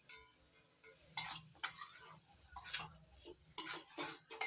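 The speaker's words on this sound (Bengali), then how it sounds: "সবজির সঙ্গে সুজিটা ভালো করে ভেজে নেব এক থেকে দুই মিনিটের মতো" A spoon stirs roasted semolina with vegetables in a pan for upma, giving quiet, close scraping strokes that come in irregular bursts with short pauses between them, and no talking.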